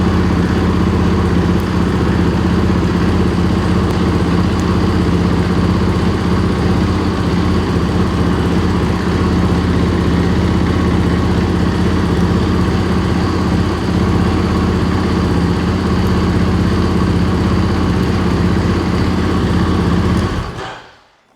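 A KTM 500 EXC-F dirt bike engine runs at a steady, loud idle, close and unbroken for about twenty seconds before cutting off abruptly.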